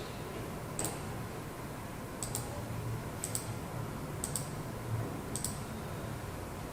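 Mouse clicks from selecting cut paths in PlasmaCAM software, a handful of sharp, isolated ticks spaced roughly a second apart, close and fairly quiet over a steady low background hum.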